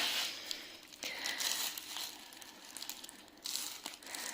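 Close-up crinkling of a plastic packet, in irregular bursts of rustling and crackling being handled, with short quieter gaps between.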